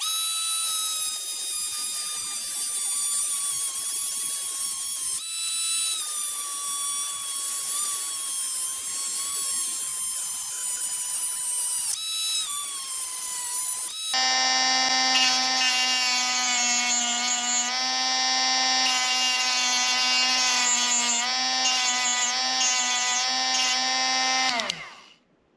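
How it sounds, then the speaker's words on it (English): A Dremel rotary tool whines loudly and steadily through a Monte Carlo model car build, its pitch dipping under load, then jumping to a higher, harsher cutting tone for about ten seconds before stopping abruptly. "And we'll just use the Dremel."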